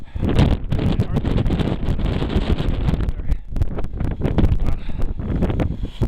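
Strong, chilly wind sweeps across the observatory deck atop Mount Washington on a clear day with snow still about. It roars and buffets the microphone loudly and continuously, with gusty surges throughout.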